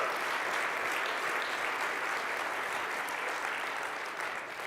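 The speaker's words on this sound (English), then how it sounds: "I don't want to squeeze you for applause" Loud, sustained audience applause at a Microsoft Connect(); 2018 tech conference, a dense wash of clapping from a large crowd that holds steady before easing slightly at the end.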